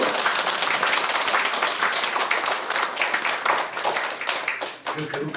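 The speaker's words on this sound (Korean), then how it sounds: "박수로 하나님의 영광을 돌리시오" A church congregation claps in praise during a Korean sermon, loud dense clapping with individual hand strikes audible, starting strong and thinning toward the end as a voice begins speaking.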